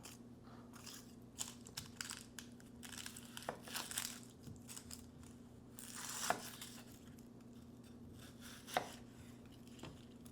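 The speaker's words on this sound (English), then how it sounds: "For your onions, you want to take 3 of them, and they want to be finely sliced, and one of them needs to be roughly chopped." A knife chopping onions on a board, quiet irregular taps and crunchy cuts at close range, with a few sharper strikes spaced through a low background hum and no talking.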